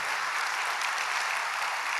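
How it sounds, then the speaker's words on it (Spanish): Congregation applauding at a church service, a steady dense wash of clapping that holds evenly throughout with no voices on top. "dale fuerte el aplauso a Dios"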